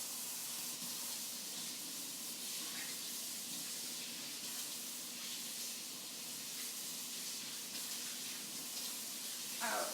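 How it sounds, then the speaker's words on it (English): Tap water runs steadily into a kitchen sink as hands are quickly rinsed, a continuous soft hiss and splash at close range with no talking. "give my hands a little quick rinse"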